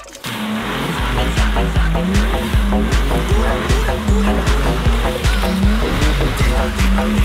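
A car drifts at the Tor Poznań race track, its engine revving loudly in repeated surges while the tires squeal and scrub continuously, close and dominant throughout with no pauses.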